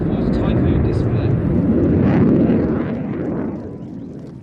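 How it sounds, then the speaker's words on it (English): A Royal Air Force Eurofighter Typhoon jet leaves an air display with a loud, low, rumbling roar that swells and then gradually fades as it departs. "he's going to exit the display. Back home to his Midlands. Ladies and gentlemen, that was the 2021 Royal Air Force Typhoon display."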